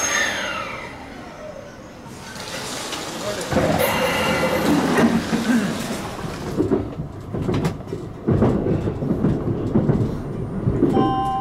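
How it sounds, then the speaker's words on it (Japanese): A local train bound for Aomori rumbles and clatters as it pulls away from a JR East station platform, with a station announcement voice over the mechanical noise. "1番線の普通列車青森行きが発車となります。"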